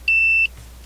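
A multimeter gives a single clean, steady continuity beep lasting under half a second while probing a metal heat sink in a Fender Frontman 15G guitar amplifier, then goes quiet.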